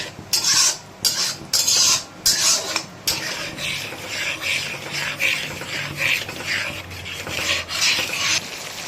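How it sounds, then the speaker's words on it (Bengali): Ginger-chili paste is stirred in a pan over a high flame, a loud raspy scraping of spoon against metal in repeated strokes, with a faint sizzle beneath and no talking. "দিয়ে বাটাটাকে দেখুন হাই ফ্লেমে চালাতে হবে।"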